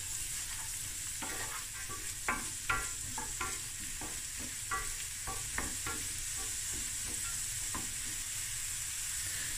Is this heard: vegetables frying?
yes